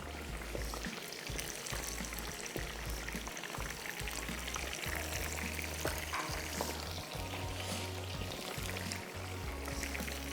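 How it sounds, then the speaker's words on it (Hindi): Battered prawns fry in a kadai with a dense, continuous sizzle and crackle of hot oil, steady and close throughout, with a faint low hum underneath. "कढ़ाई में प्रॉन्स इतने डालें जितने के आ जाएं"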